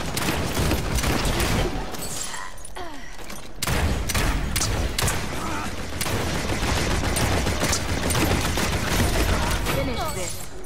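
Rapid, loud volleys of gunfire in Paladins crackle in dense clusters, pausing briefly before resuming, with a player talking over the shooting.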